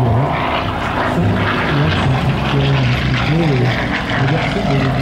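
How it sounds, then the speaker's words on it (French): A formation of six military jets, led by a Sukhoi Su-24, passes over an air show at Lens-Bénifontaine, a loud, continuous engine roar that fills the whole stretch with a steady low drone. "ces 6 avions sont présentés, en l'occurrence un Sukhoi 24 en fait, en leader"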